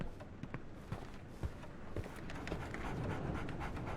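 Soft, rhythmic dog panting close by in the video game Sherlock Holmes: The Awakened, over a steady low background hum, with faint scattered taps and footfalls.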